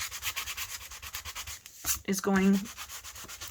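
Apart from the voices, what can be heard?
sanding pad scrubbing gloss off paper journal spine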